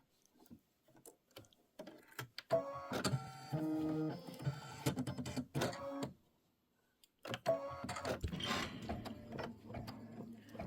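A computerized embroidery machine stitches turkey feet in black thread on a pillow panel, with rapid mechanical whirring and ticking in bursts, a pause near the middle, then resuming up close.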